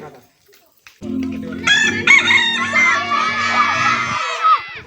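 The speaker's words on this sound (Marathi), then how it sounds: "आता हा कोंबडा आहे कोंबडी नाही" A rooster gives one loud, drawn-out crow close by, over a low steady hum with children's voices in the background.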